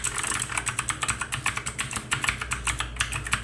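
Someone types quickly on a Keycool 87 Hero Glow mechanical keyboard with Kailh blue switches, making dense, loud, rapid clicks in an uneven rhythm.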